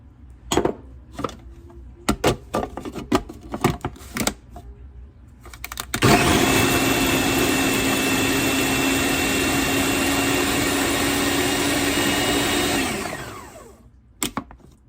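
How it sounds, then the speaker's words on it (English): A food processor chopping garlic into oil starts with a few clunks and knocks, then whirs loudly and steadily for several seconds before winding down to a stop. "I'm gonna go ahead and run it through the food processor."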